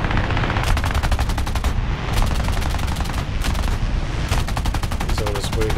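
Several long bursts of rapid fire from .50 cal aircraft machine guns in the War Thunder video game, loud and close over a steady engine drone, with short pauses between bursts.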